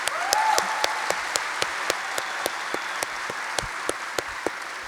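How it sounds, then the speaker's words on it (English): Applause from the audience at a Link-Up Queensland 40th anniversary gala, a steady wash of many hands clapping throughout, with a few sharper claps standing out clearly in a regular rhythm. "And I just want us to please have a round of applause for her."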